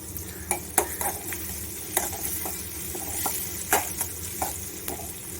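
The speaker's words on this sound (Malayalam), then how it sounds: "വെളിച്ചെണ്ണയിൽ ഈ ഉള്ളി മൂത്ത് വരുന്നത്" Onions sauté in coconut oil in a pan, a low steady sizzle punctuated by several sharp scraping strokes of a stirring spoon, close and alone.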